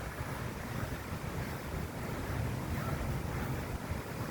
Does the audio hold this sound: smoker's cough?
no